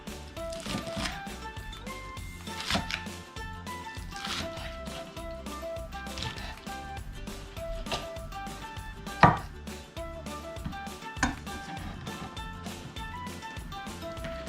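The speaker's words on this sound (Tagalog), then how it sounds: "So hiwain na natin itong dahan ng sibuyas." A knife chops spring onion leaves on a board for sinigang, making rapid, steady close-up cuts that continue through the clip with a few louder knocks.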